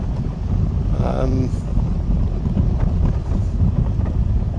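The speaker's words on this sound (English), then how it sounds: "There's a bit of wind, I don't know how bad it's going to be." Steady wind buffeting a microphone outdoors on a street in West Derby, a loud, constant rumbling roar throughout, with a brief faint voice early on.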